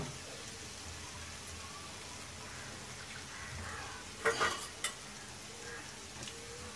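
Spices stir and fry quietly in a pan with a soft, continuous sizzle, and a few brief clinks and scrapes come from the spoon midway.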